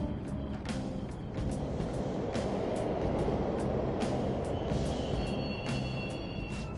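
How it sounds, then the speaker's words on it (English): Subway trains running in Persona 5 Royal, a low, steady rumble of rolling rail traffic with faint metallic squeals and clanks on top, moderately distant and continuous throughout with no voices. "The trains are totally running!"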